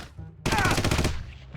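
A rapid burst of SMG fire in the shooter game Red Faction, a dense chattering run of shots lasting about half a second, loud against a quiet game background.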